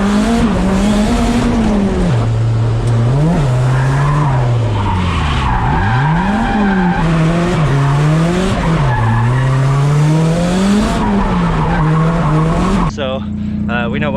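A Nissan S13 drifts at Spirit Peaks with its engine wailing and rising and falling in pitch over loud, continuous tire skidding. The sound stays close and sustained until it cuts to a different sound near the end.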